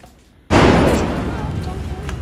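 A single sharp, loud blast from a Sivakasi firecracker bursts close by, followed by a long rumbling, crackling decay.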